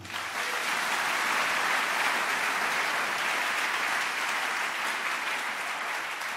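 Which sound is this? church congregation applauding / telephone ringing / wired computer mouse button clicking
church congregation applauding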